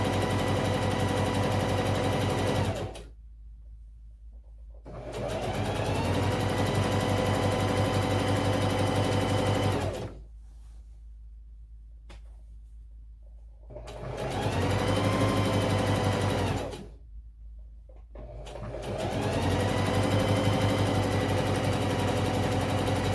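A sewing machine stitches a lap blanket in long, steady runs of rapid mechanical whirring, close and fairly loud, stopping three times for quiet pauses before starting up again.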